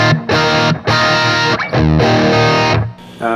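A heavily distorted electric guitar through a humbucker pickup plays thick, sustained chords in short phrases, loud and up close with a warm, full tone.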